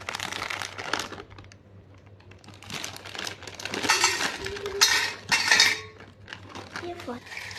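Three packets of Bingo chips are crushed by hand for chaat, with crackling crinkles of chips and packet coming in bursts and clinks of a bowl or spoon between them. No one speaks.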